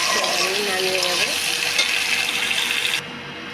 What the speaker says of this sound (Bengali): দেখুন আমার হালকা বেগুনটা আলু বেগুনটা ভাজা হয়ে গেছে, আমি নামিয়ে নেবো।